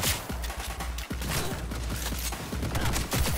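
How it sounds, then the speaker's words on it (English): Rapid bursts of machine-gun fire from hostile machines in the Cyberpunk 2077 video game, loud and continuous, with sharp repeated transients across the whole stretch and no talking. "your machines are shooting me"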